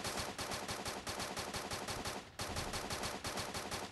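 Rapid automatic gunfire in the Free Fire battle royale game, loud dense bursts of shots that run almost continuously, with one short break in the middle.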